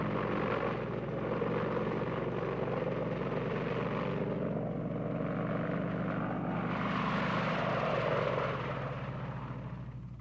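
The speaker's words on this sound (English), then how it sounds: "Apache attack helicopters were the only Army units to take part in the air campaign" Apache attack helicopters fly past during a military air campaign, a steady, loud rotor and engine drone holding for about ten seconds before easing slightly at the end.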